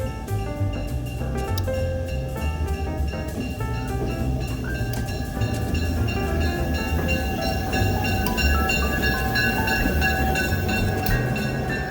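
A historic passenger train, the Missionary Ridge Local in Chattanooga, rumbles steadily along with a continuous low mechanical roar and faint metallic squeals, heard from on board at a constant moderate loudness.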